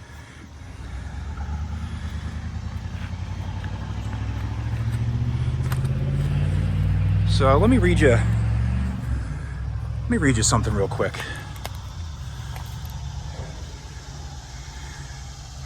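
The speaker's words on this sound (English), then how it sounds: "We're right by a road. There's heavy truck traffic here as we're right near" Heavy truck and car traffic rumbles steadily on a nearby road beside a still active cement plant, swelling as vehicles pass, with someone talking over it throughout.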